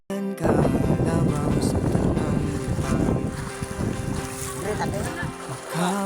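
A small boat travelling on water toward Bansalan, with a steady engine drone, rushing water and wind buffeting the microphone. The sound is loud and continuous, and voices can be heard faintly over it.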